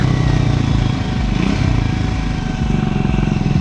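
A Triumph Scrambler 400 XC motorcycle engine thrums loud and close while riding, a steady throaty pulse that dips briefly and picks up again.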